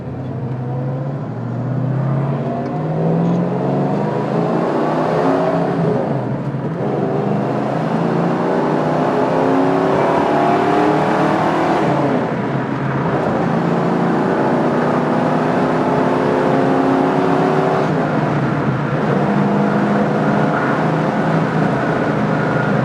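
A 1965 Ford Mustang Fastback's V8 engine revs and holds a steady, loud whine, its pitch climbing and falling in smooth sweeps across a long, continuous run.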